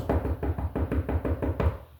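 A voice imitates knocking on a door, producing a quick run of about nine evenly spaced, punchy knock sounds that are close and loud, with no other talk.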